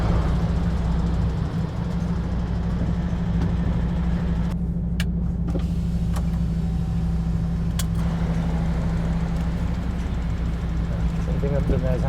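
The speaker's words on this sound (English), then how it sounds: "Back it into its parking space, Tom." Diesel engine of an HGV lorry idling steadily as it reverses into a parking space, a continuous loud low hum throughout with a brief quieter patch midway and a voice speaking over it.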